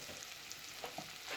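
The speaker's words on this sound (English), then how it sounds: "that's why it's just sizzled so badly" Garlic and celery sizzle softly in a pan over low heat, a quiet continuous hiss with a few faint crackles and pops and no voices.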